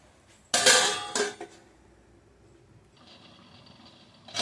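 A metal lid clatters down onto a pot of mutton bone curry with aubergine, giving a brief close rattle and a second clink, followed by a quiet steady simmering hiss.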